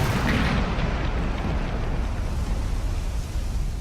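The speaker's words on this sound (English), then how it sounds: "let's throttle up a little bit and let's fire this baby up. 3, 2, 1, launch." Rocket engines fire during a launch in Kerbal Space Program, a loud, unbroken broadband roar that holds steady for the whole stretch with no voices.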